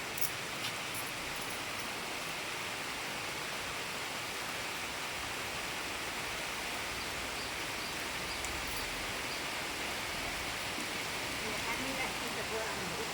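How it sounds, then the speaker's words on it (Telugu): Rain falls steadily on a village construction site after work has finished, a continuous even hiss of drops with no clear breaks, faint and distant with little else heard. "పని అయిపోయినాకనే వర్షం వచ్చింది"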